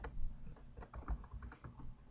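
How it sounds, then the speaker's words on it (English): Steady typing on a computer keyboard at close range, with an irregular run of quick key clicks and taps and no voices. "just typing in here"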